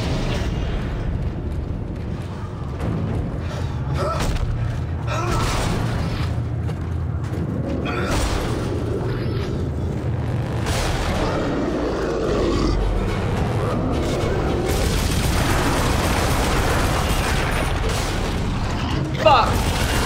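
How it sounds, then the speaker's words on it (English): Elevator ride in the video game Dead Space 2: low mechanical rumble, creaks and booming clanks with eerie roaring swells, building in intensity toward the end. "Elevator ride."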